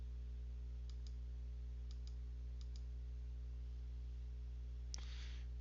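A computer mouse clicked in quick pairs, three crisp double clicks spaced about a second apart over a steady low electrical hum, followed by a slightly louder click and rustle near the end.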